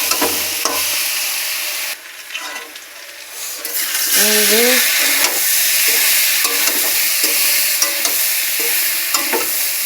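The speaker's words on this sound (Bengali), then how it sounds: "এবার হলুদ লবণ দিয়ে নাড়াচাড়া করছি" Vegetables frying in a pan with turmeric and salt being stirred, a continuous sizzle with scraping stirs and a brief clatter, while a voice speaks briefly.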